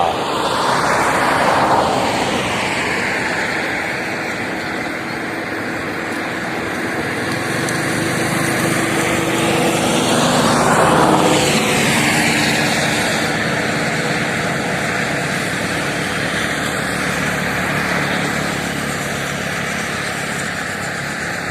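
A longtail boat's high-revving engine drones across floodwater at dawn, swelling as it approaches and passes, then fading, with a second pass later; steady mid-distance buzz with no talk.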